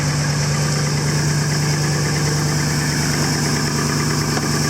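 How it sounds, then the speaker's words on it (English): A Ford car engine idles steadily with a leaky exhaust, giving a constant, loud drone with a low hum and a raspy, hissing puff layered over it, heard without any talking. "You hear that leaking exhaust?"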